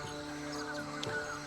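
A bird squawks in Monkey Island 2 Special Edition, giving a short raspy caw over a steady hum of game music, brief and moderately faint, with no talk.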